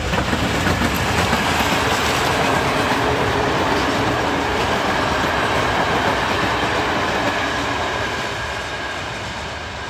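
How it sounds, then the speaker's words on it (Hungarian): A train passes close by, a loud steady rumble with clattering wheels that holds for most of the stretch and then starts to fade at the end, with no talk over it. "Itt jön egy vonat"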